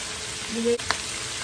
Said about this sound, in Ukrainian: Хай воно оце все пережариться, з цими зі сіллю і персиком.